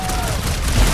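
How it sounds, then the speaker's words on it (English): In the video game Marvel's Guardians of the Galaxy, an explosion bursts amid a firefight, a short, heavy low boom with crackling rattle that fills the whole moment, loud and close. "Incoming explosion!"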